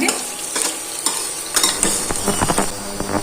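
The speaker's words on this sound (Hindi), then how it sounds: "दो तो तीन मिनट तक प्याज चंकी तरह फ्राई करा" Chunky onion pieces fry and get stirred in a pan for yellow moong dal, with steady sizzling and repeated scraping stir strokes, close and fairly loud, no voices.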